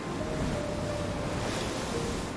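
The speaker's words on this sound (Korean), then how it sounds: "파도를 일으키는 바람은 늘 섬을 감싸고 있습니다." Sea waves whipped up by the harsh northwest wind around Uido, a remote island off Sinan in South Jeolla, Korea, roar steadily as a dense, unbroken wash of surf and wind with no pauses.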